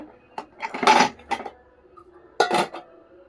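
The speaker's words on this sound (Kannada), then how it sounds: "ಎಷ್ಟು ಪಾತ್ರೆ ಆಗಿದೆ ತೊಳೆಯೋದು" Steel pots, plates and cutlery clatter and clink in a home kitchen sink during dishwashing, coming in two separate bursts of close, sharp knocks with quiet gaps between them.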